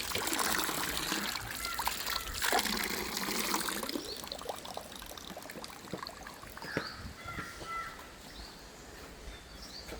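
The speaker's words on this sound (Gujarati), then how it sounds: "જોઈ શકો છો પાણી ચોખ્ખું આવે." Clean drinking water trickling and pouring from a tap at a tourist spot in Diu, heard up close as a steady splashing flow, with faint birdsong in the background.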